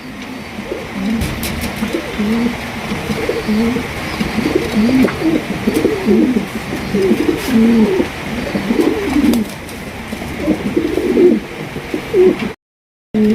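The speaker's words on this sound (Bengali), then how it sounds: "দর্শক এখানে রয়েছে খুবই সুন্দর এক জোড়া কবুতর দেখতেই পাচ্ছেন" A pair of Magpie pigeons coo repeatedly in low, rolling phrases, close by and steady over a hissy background, until a short cut near the end.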